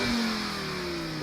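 Steady, smooth mid-pitched growl of a Volvo 2.4 litre straight-five engine held at elevated revs, loud and continuous with no talk over it.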